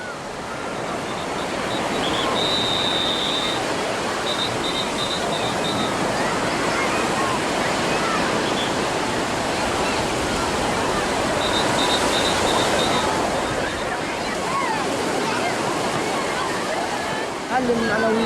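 Surf breaking steadily along a Gaza beach, a continuous wash of waves filling the whole stretch, with faint children's voices and shouts mixed into the roar.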